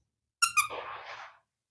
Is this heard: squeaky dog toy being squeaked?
yes